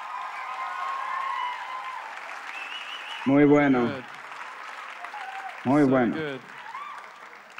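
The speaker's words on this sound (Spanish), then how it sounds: "Vamos, den un aplauso a Bernie." An audience applauds for Bernie at a Spanish-language church gathering, broad clapping filling the clip while a voice speaks over it twice in short bursts.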